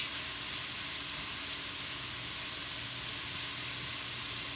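Bacon and spinach cooking with riced cauliflower in a hot pan give a steady, dense sizzle and hiss, close and unbroken throughout.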